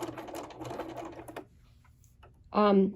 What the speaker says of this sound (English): I'm going to sew right along my drawn line